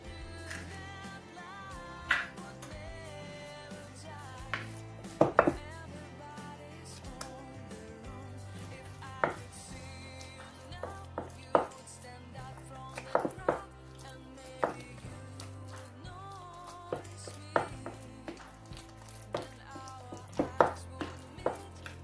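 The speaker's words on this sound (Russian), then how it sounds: "И теперь сюда вливаем по одному яйцу и перемешиваем." Eggs are beaten one at a time into warm choux pastry dough in a bowl, a quiet irregular run of soft slaps and utensil knocks against the bowl, with some sharper clicks throughout.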